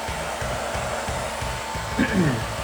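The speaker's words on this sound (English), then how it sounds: "you can grab the hair dryer again" A hair dryer blows steadily with a constant whooshing hum, close by, heating a rear wing spoiler during installation on a Chevrolet Camaro, with a brief squeak near the end.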